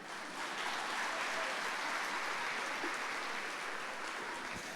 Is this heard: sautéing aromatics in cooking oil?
no